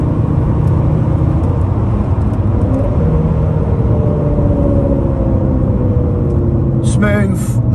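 Alfa Romeo 156 2.4 JTDM Lusso 20v multijet diesel car pulling hard along a road, a steady loud rumble and whir of engine and road noise throughout, a voice talking over it.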